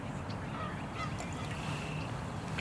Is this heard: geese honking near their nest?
yes